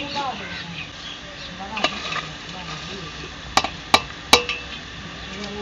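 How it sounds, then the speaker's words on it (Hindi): Mustard greens for sarson ka saag are tipped into a pot of boiling water in a village kitchen, a steady bubbling hiss punctuated by a few soft knocks and then three sharp metallic clinks of utensils against the pot. "तो उसके बाद साग डालने लगे हैं।"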